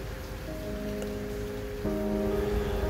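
Steady rain falls as a continuous hiss on surfaces, with a low hum and tonal drones beneath that step up partway through; no talking is heard.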